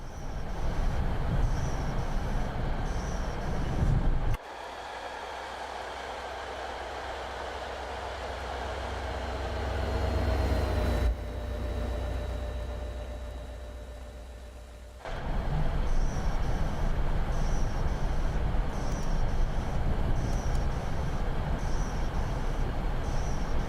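An MBTA commuter train in a Boston rail simulator game rumbles steadily along the track, with a brief quieter low-pitched stretch in the middle before the louder rolling noise returns; no one talks.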